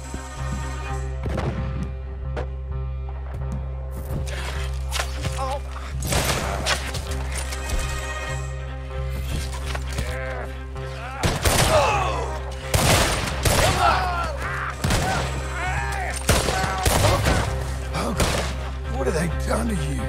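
Gunfire in the video game Red Dead Redemption 2, loud repeated shots and volleys in irregular bursts over a low rumbling game soundtrack, with brief voices shouting between shots.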